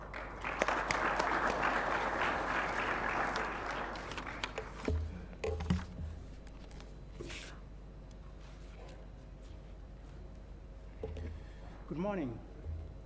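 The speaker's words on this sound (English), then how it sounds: "With your round of applause, Dr. James Gashumba" A conference audience at the WorldSkills Kigali Africa Regional Competition applauds a welcomed guest, a burst of clapping in the first few seconds that fades out, followed by quieter room sounds and scattered voices.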